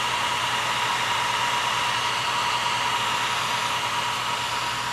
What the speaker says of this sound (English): That's somebody else with a blower outside there.